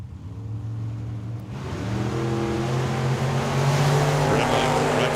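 Drag race cars at Tucson Dragway on an evening race night, a loud roaring engine drone building steadily as the cars accelerate, with a steady rumble throughout.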